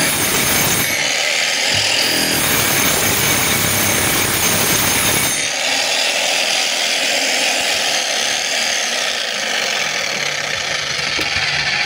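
DeWalt D25899 10 kg demolition jackhammer running in a loud, continuous, dense roar with a brief pause near the start, then steady hammering throughout, close and alone with no talk.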